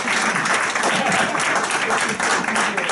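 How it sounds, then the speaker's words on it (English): A crowd at a political event in a bar gives loud, dense, continuous applause, a thick roar of many hands clapping close by, with cheering mixed in throughout. "Yeah, you can clap to that."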